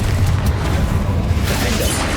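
A Repulsor spell cast in Hogwarts Legacy lands as a loud, deep boom with a rumbling low end. Sharp bright bursts flare across it, and a second burst comes near the end of the moment. No voices are heard.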